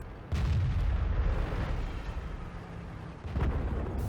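Tank cannon fire in the video game World of Tanks, a heavy WZ-111 battle on a swamp map, with two deep booming shots, each followed by a rolling low rumble and a decaying tail, with no voices.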